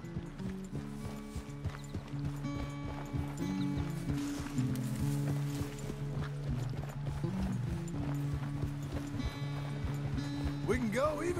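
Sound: horse galloping in video game Red Dead Redemption 2

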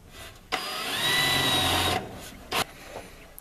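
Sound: drilling a hole with a unibit step drill

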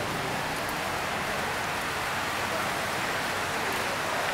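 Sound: rain falling

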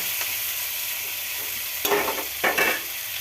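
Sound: onions and green chillies frying in a pan

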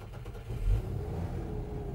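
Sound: Volvo Snowcat engine starting and revving

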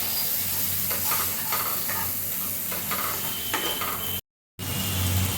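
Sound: chicken liver stirred with coriander powder in a pan

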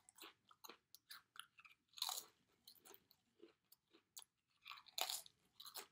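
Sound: eating Pringles chips

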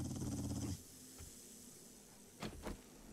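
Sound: dog in the video game 7 Days To Die

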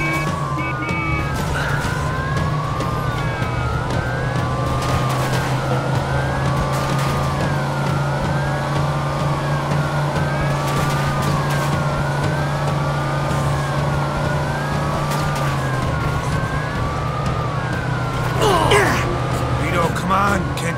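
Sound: car driving fast in Mafia II video game

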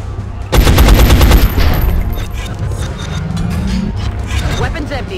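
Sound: gunfire in the video game XCOM

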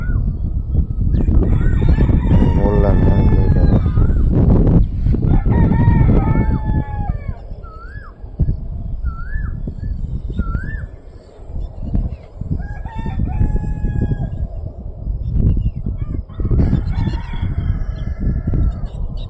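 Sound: peacocks calling

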